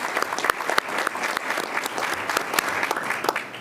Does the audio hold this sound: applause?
yes